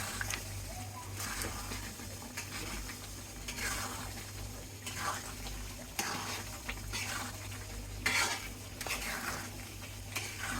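Garlic pickle with sugar being stirred in a pan, with repeated scraping sweeps of a spoon at an unhurried rhythm over a low simmering bubble, close up and moderately quiet.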